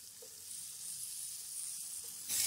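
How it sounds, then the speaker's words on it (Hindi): Potatoes, capsicum and slit green chilies frying in a pan give a faint, steady hiss of sizzling oil that swells suddenly louder near the end, with no voices. "अभी मजीद हम इसको 2 से 3 मिनट भून लेंगे"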